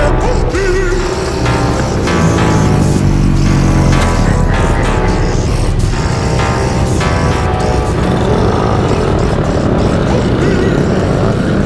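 A fast electric bike rides through Los Angeles streets in summer, with loud continuous wind rush and a droning whine that rises and falls, busy with road and traffic noise throughout.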